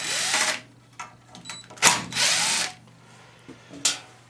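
A cordless drill runs in short bursts, backing Phillips screws out of the housing of a slow-running Craftsman snowblower. The whirs come close and loud, with brief pauses between them.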